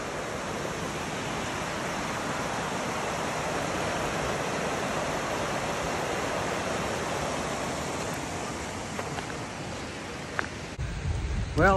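Water rushing along the left fork of Crooked Creek on a rainy trail hike, a steady broadband wash that holds constant and close for the whole stretch, with a brief rustle near the end.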